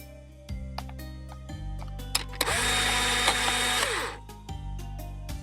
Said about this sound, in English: That's the sound of a Polaroid taking a picture.